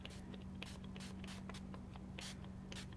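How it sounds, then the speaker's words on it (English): Spray can sprayed through a craft stencil: short hissing bursts repeat unevenly, close and fairly quiet over a steady low hum. "Look how much of the area I'm spraying."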